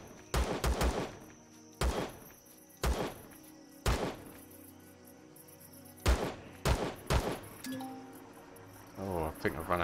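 Gunfire at creatures in Empyrion Galactic Survival, sharp loud shots in quick bursts and single cracks spaced over several seconds, with steady insect-like chirping in the background and some talk.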